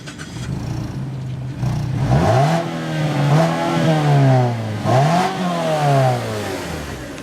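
A 2014 Mazda3 with a 2.5-liter four-cylinder engine is revved three times toward its 5,000 RPM limit. Each rev rises and falls back to idle, loud and close, with no speech.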